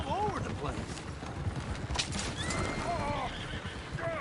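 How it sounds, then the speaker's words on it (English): Horses in the video game Red Dead Redemption 2 neighing loudly several times over a steady clatter of hooves, with voices talking and shouting over them. "Oh, shit, the horses! Damn horses!"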